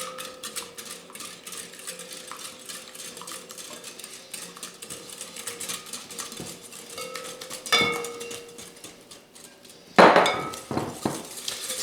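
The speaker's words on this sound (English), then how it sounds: "now I'm going to whisk the sugar into the eggs" A whisk rattles and clinks rapidly against a bowl as sugar is beaten into eggs for rice pudding, a steady close scraping rhythm with louder sharp clanks near the end and no talking.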